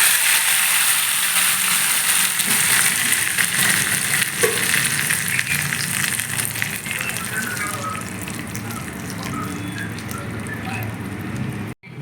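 Steady sizzling and frying noise as tempering is stirred into moringa leaf dal in a pan, a scraping, ratcheting stir running throughout, cutting off abruptly at the end.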